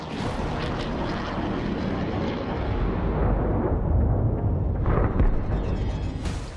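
A Spice 2000 bomb dropped by an air force strikes a concrete bunker target, heard as a sustained deep rumbling roar with blast-like swells, loud and alone without speech.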